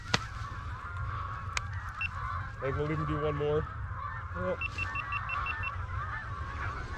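Geese honking during a duck and goose hunt in Canada, several calls rising over steady outdoor wind noise, with hunters talking briefly.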